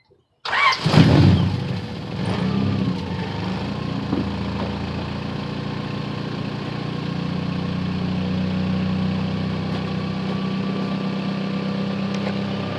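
A Honda Civic with a swapped H22 engine cranks and fires up with a loud burst, then settles into a smooth, steady idle that rumbles on evenly nearby.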